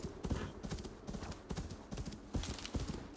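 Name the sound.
horse hooves clip-clop in video game Assassin's Creed Valhalla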